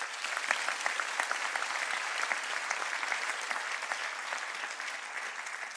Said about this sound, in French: Pascal Vallot, j'aimerais qu'on l'applaudisse.